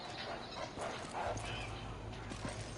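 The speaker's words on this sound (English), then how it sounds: "I hear dogs." Dogs barking in the Resident Evil 5 video game, several faint, short barks and yips scattered over a noisy game soundscape with a low rumble.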